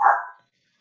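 A small dog gives a single short, sharp bark close by, which fades within half a second and leaves silence.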